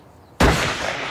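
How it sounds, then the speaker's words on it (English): A single sharp gunshot blasts a pie apart, cutting abruptly through near-silence and followed by a loud, sustained burst of splattering debris and rumble. "Can I shoot a pie now?"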